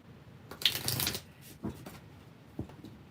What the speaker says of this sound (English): my cards just want to slide out of my hand